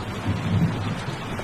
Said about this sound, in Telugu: వర్షం భయంకరంగా పడుతుంది.